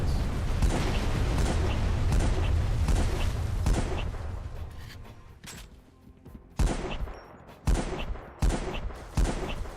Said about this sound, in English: The little turret's shooting me, that's cool.